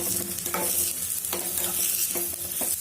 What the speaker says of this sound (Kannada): ಸ್ವಲ್ಪ ಕರಿಬೇವನ್ನು ಹಾಕಿ ಚೆನ್ನಾಗಿ ಫ್ರೈ ಮಾಡ್ಕೊಳ್ಳೋಣ